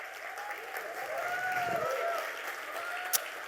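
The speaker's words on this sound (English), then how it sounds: "Can I get a huge round of applause for anyone who has ever made" Audience applause for creators, a steady wash of many hands clapping that swells slightly midway, with voices mixed in and a brief sharp clap or shout near the end.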